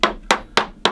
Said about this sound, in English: I'm just using the plastic side of my little Stumek hammer, which is a fret hammer